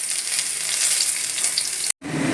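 Chopped onion fries in mustard oil with bay leaf and whole garam masala. A close, bright, steady sizzle hisses throughout and cuts out for a moment just before the end.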